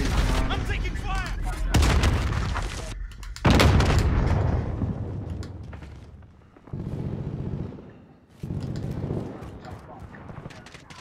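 Gunfire in Call of Duty: Modern Warfare Warzone, with loud booming bursts and scattered shots across the battle, some blasts very close and heavy, set among ongoing game noise.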